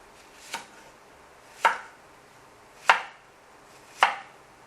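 An onion is sliced into pieces with a knife on a cutting board, four crisp chops spaced about a second apart, each sharp and close over a faint quiet background.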